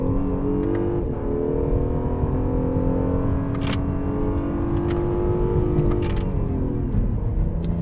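A 2019 Acura NSX supercar, its engine mounted just behind the cabin, runs with a steady, loud droning hum heard from inside the car, its pitch rising and falling slightly over about eight seconds.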